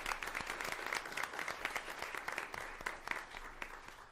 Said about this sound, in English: So let's give our Spring ISD Foundation a round of applause.